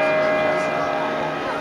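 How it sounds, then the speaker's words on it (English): The church bell at San Marco in Venice rings out across the square, a sustained resonant tone with lingering hum, heard amid open-air crowd murmur and a voice. "The bell's going off."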